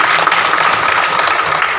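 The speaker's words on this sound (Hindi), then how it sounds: "तो एक बार जोरदार ताली जरूर दें" Audience applause at a World Indigenous Day event, a dense, even wash of clapping held loud throughout the short stretch.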